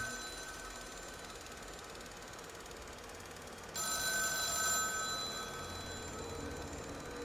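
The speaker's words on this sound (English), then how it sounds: "Oh, hello, telephone. That's actually ringing." Telephone in The Town of Light video game ringing with a bright electronic trill, one long ring starting midway and louder than the quiet ambient hum before it.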